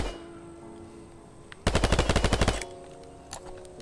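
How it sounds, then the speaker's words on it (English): A rapid automatic burst of about a dozen gunshots from other players in the VR shooter game Strayed, loud and close, lasting about a second amid quiet game ambience. "So you can see other players shooting."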